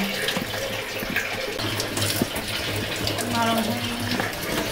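A kitchen tap runs steadily while fish is washed, a constant splashing gush with small clatters of handling, close by, with voices talking faintly underneath.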